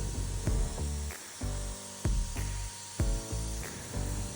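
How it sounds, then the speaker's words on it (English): Bursts of a paint sprayer apply the first coat to a nightstand, repeated short hissing passes in a steady rhythm, each with a sharp onset, close and fairly loud. "Then I begin to spray first coat."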